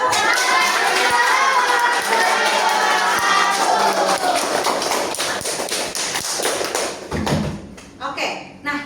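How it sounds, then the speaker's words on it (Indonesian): Classroom audience clapping after a closing speech, a dense steady patter of many hands for about seven seconds before thinning out as a voice comes in near the end. "Tepuk tangan."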